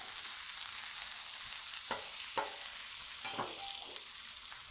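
Kielbasa and pierogies sizzle steadily on a hot griddle, a continuous bright frying hiss broken by a few short scraping clicks and clatters as pieces are spread out, close and even throughout.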